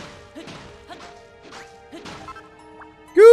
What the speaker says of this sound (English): You smashed that sand like it was nothing.